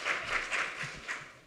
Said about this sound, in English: Claps.